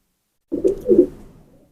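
A pigeon of a high-flying breed gives one short, close cooing phrase of two or three soft throaty pulses, then falls quiet.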